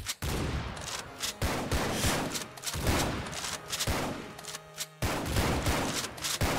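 Rapid volleys of gunfire from sniper towers in the Roblox-style game Tower Defense Simulator, dense overlapping shots crackling continuously and loudly with brief gaps, no talk.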